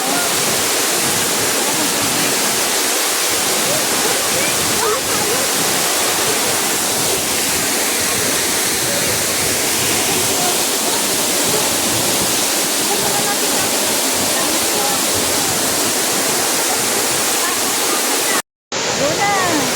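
Mirror Falls waterfall roars as a steady, loud, broadband rush of falling water that continues for the whole stretch and only drops out for an instant near the end.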